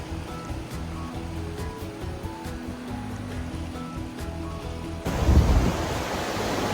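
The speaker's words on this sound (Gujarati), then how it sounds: "અહીંયા પાણીનો પ્રવાહ ખૂબ જ વધારે છે" Strong sea water rushes continuously at Banganga, a steady roar of surf that swells into a louder, closer surge near the end, with no voices.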